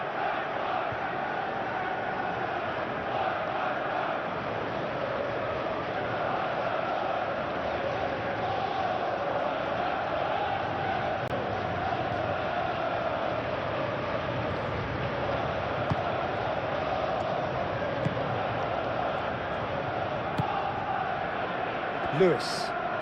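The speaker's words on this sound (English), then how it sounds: "it's applause all round us here" Stadium crowd noise at the FA Cup Final between Chelsea and Manchester City in the PES 21 football video game, a steady, dense roar of applause and cheering filling the whole stretch without a break.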